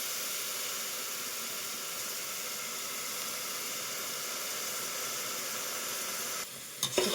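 Ginger garlic paste sautéing in a pan on low heat, a soft, steady hissing sizzle that runs evenly, then breaks off into a few brief clinks near the end.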